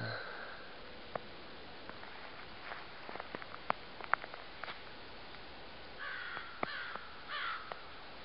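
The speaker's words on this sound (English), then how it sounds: "Another crow." Crows caw several times at a distance beside a dried-up pond outdoors, faint calls scattered over quiet background with a few soft rustles and footsteps.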